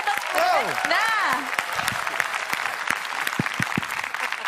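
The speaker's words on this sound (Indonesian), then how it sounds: "Langsung kasih tepuk tangan yang meriah dong." Enthusiastic audience applause at a live stand-up comedy show during an election campaign event, a dense wash of clapping that rises, holds, then thins out while a speaker's voice carries over it.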